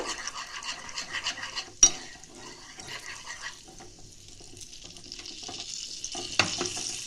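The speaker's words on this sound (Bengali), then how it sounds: "এক চামচের মতন হলুদ দিয়ে আমি এটা একটু গরম করে নেব।" Turmeric sizzles in about two spoonfuls of hot ghee in a pan for Basanti Pulao, making a close, steady frying crackle broken by a couple of sharp scraping knocks from stirring.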